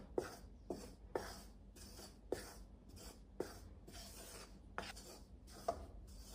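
A spoon scrapes through gram flour (besan) being roasted on medium heat in a pan for besan barfi: quiet, close, rhythmic rasping strokes, about one every half second.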